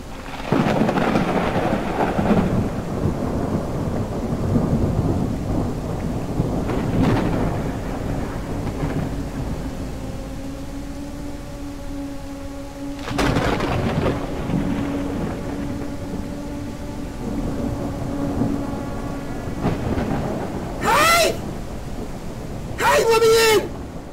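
Rain and thunder from a backrooms horror video game fill the scene, with steady rainfall under repeated thunder rumbles and sharp cracks, while a person talks over the storm throughout.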